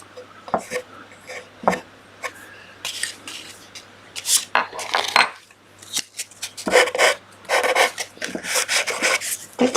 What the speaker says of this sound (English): Just need to trim that off with my chisel.